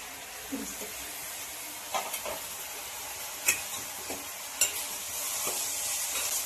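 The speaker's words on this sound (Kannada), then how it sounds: "ಬರೀ ಎಣ್ಣೆಲೆ ಫ್ರೈ ಮಾಡಿ ಕ್ಯಾಪ್ಸಿಕಮ್ ಬೇಯ್ತಿದೆ" Capsicum fries in a shallow layer of oil, giving a steady close sizzle. Scattered scrapes and taps from stirring cut through the sizzle across the whole stretch, and no one speaks.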